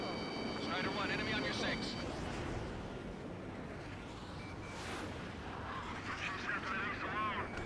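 Jet fighters flying in Ace Combat 7: Skies Unknown, a loud steady roar with rumbling blasts and missile sounds, under continuous commentary.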